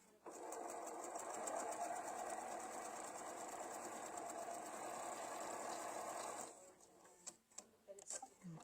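An embroidery sewing machine runs steadily for about six seconds with a fast, even mechanical whir and ticking, then stops, leaving scattered small clicks and handling noises.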